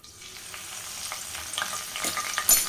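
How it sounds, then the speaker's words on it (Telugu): Curry leaves dropped into hot oil for a pond fish curry, a crackling sizzle that builds and grows louder toward the end, close and alone with no voices. "ఆయిల్ అయితే వేడైపోయింది ఇప్పుడు దీంట్లోకి కరివేపాకు వేసేద్దాం"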